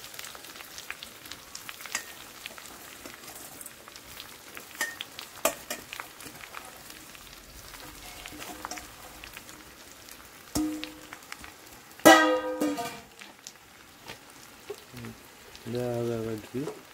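Flattened rice (chira) tossed with salt and sugar frying in a pan, a soft steady sizzle with faint stirring scrapes and occasional louder clatters, with brief talk near the end.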